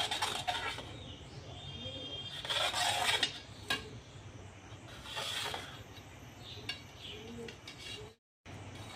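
Knife slicing through a rolled sheet of dried mango on a board in a home kitchen, several soft rasping strokes in bursts with quiet pauses between, close and alone.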